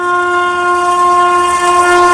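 A WAP7 electric locomotive hauling red LHB coaches overtakes on an Indian main line, giving a loud, steady horn-like tone with rolling rail noise throughout, no voices.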